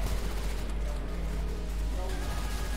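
Dense gunfire rattles on in the online shooter CrossFire, a constant loud barrage of overlapping shots with no clear pause across the short stretch.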